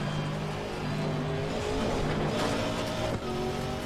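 A GT race car in Assetto Corsa Competizione howls at full throttle, its engine loud and steady with rising harmonic tones, tire scrub and a brief dip near the end, no talking over it.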